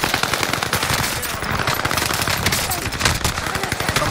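Dense, rapid gunfire in a multiplayer shooter game rattles continuously, with overlapping bursts close and loud throughout.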